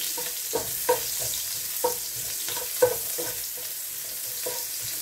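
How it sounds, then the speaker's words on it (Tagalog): Onions browning in a frying pan, a continuous close sizzle broken by a few sharp stirring clicks and scrapes, with no talking. "Ilagay na natin yung sibuyas muna. Brown lang natin ng konti mga lods."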